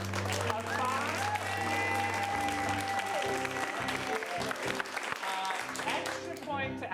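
Audience applause at an improv comedy show, clapping as a vote for a performer, with steady crowd noise and a low hum. Music and talk run underneath, with the clapping swelling and thinning across the stretch.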